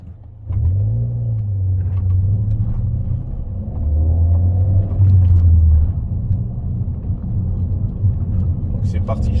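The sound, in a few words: Peugeot 208 GTi accelerating with Pipercross air filter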